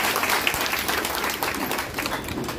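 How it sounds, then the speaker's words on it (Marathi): A crowd at an office inauguration for a women's organisation bursts into steady, dense applause honouring Raju, many hands clapping close together in a continuous wash with no pauses. "म्हणून राजूसाठी टाळ्या"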